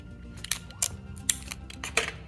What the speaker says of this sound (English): So I'm just going to tape him back up again.